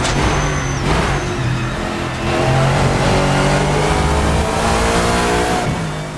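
A Lexus GT3 race car in Assetto Corsa accelerates hard out of a chicane complex, its engine note climbing steadily through the gears with a loud, continuous rising drone and brief shift breaks.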